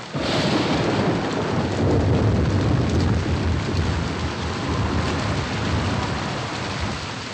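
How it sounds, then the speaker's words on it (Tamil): Heavy rain pours down continuously with deep thunder rumbling underneath, a dense, loud roar of rainfall that stays steady throughout with no voices. "ரொம்ப மழை பெய்யுது"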